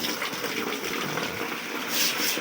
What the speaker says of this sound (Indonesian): untuk pengisian air kolamnya ini kita menggunakan air dari sumur bor ya teman-teman ya. Dan waktu airnya cukup kencang ya, cukup deras ya